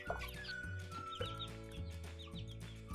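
Bielefelder hens clucking and a rooster's call close by, with a busy barnyard chorus of overlapping bird sounds throughout.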